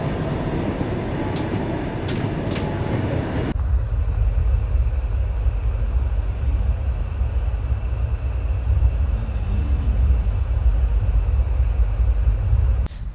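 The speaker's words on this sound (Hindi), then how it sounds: "2 मिनट के स्टॉपेज के बाद गाड़ी अपनी निकल चुकी है बख्तियारपुर रेलवे स्टेशन से" Train pulling away from Bakhtiyarpur railway station at night, the Rajendra Nagar–Kamakhya Capital Express: a steady low rumble of wheels and carriage fills the clip after a quieter start, with no talk.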